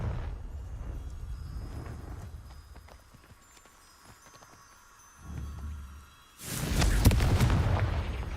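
Near the end, a Confringo blasting spell in Hogwarts Legacy erupts into a sudden loud, booming burst after quieter ambient sounds and a low thump, and the heavy blast lingers to the close.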